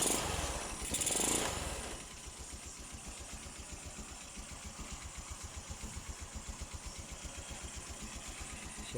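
A 2019 Motorstar Easyride 150R2 motorcycle engine idles noisily with a rapid, steady chugging pulse after a brief louder burst at the start, moderately close with no voices.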